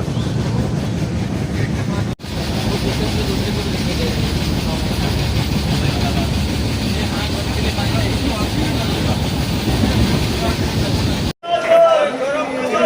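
The Falaknuma Express passenger train rolls along rails near Balasore station, a steady loud rumble and rattle of carriages lasting throughout, with people talking in the background.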